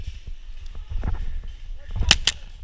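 Paintball guns pop in a woodsball game, a couple of sharp nearby shots cracking out near the end over outdoor rustle and low background noise, with scattered quieter pops earlier.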